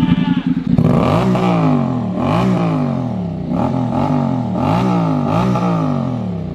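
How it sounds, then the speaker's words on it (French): A Honda Forza 750 scooter cranks and starts, then revs several times in repeated rising-and-falling surges, loud and close, with a motorcycle-like engine note. "c'est parti. Je vais démarrer."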